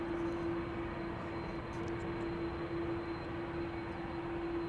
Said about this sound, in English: A330 engines are very overpowering whenever there is an A330 in the vicinity.